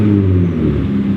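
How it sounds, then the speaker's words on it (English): A Gen 3 Ford Raptor's V6 exhaust revs briefly and loudly up close, a deep rumbling burst that settles within about a second. "the exhaust is a little louder, but on this truck, you're actually able to adjust it"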